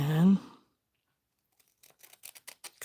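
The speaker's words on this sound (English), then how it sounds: "cut a little bit on that fold" Regular scissors snipping a folded paper envelope along its fold, a quick series of short crisp cuts heard up close after a brief silence.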